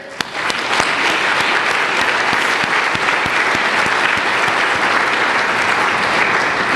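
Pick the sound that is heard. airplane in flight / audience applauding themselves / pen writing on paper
audience applauding themselves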